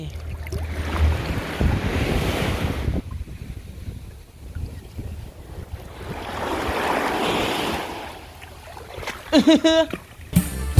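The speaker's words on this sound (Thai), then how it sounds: "เสียงลม" Strong wind buffets the microphone at a beach, with surf washing in the background, gusting loud then easing in two long swells, and a brief burst of distant chatter near the end.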